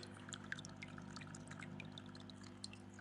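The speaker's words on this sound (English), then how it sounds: "The worst you're going to get is the trickling sound of the water" Soft trickling and light dripping of water falling from a Seachem Tidal 55 aquarium filter over a low steady hum, quiet and close with scattered small splashes.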